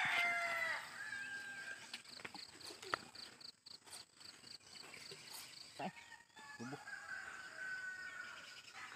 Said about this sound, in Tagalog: Tumakbo yung manok.